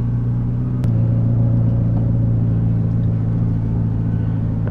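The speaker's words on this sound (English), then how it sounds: "And so we're off here." A 2012 McLaren MP4-12C with an upgrade and added horsepower pulls away, a loud, close, steady low engine rumble following a brief click near the start.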